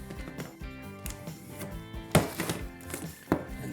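Luxury vinyl tile is cut during a kitchen floor install. Several sharp scoring and snapping strokes land close and crisp, with two louder hits standing out, and no voices.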